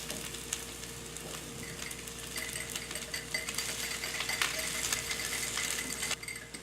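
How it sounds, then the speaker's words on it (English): A spoon stirs a mixture of fresh garlic, salt and black pepper in a bowl, making a continuous close scraping and rattling sound with steady faint clinks and no voices. "So now we're going to mix it all up."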